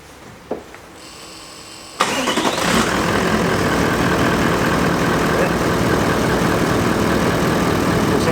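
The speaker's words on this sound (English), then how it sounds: "just start the car up to make sure that it fires up with no problem" Car engine cranking and catching after an ECU remap, a brief starter whir followed by a sudden loud firing that settles into a steady, close idle.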